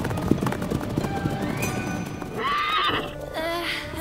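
In a cartoon, a unicorn gives a loud, close whinnying neigh that rises and falls, with clip-clop hoofbeats and soft background sounds around it.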